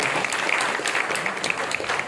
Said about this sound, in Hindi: तालियों की कमी ना होने दीजिए प्लीज, जोरदार तालियां